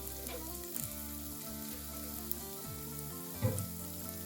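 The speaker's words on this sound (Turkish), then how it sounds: "Güzelce kavuralım." A steady, soft sizzle of rice and vermicelli sautéing in butter in a pan, continuous and close, with no talking.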